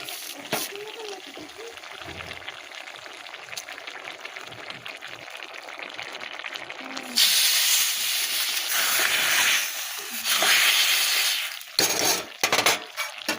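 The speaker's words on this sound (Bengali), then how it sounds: "একটু তেল হাতার মধ্যে গরম করে ফোড়ন, ওর মধ্যে একটু হলুদ দিয়ে ওর মধ্যে দিই" Spices and turmeric tempering in hot oil in a ladle give a loud bright sizzle and hiss that bursts up midway and flares again in spurts near the end, over a quieter kitchen background.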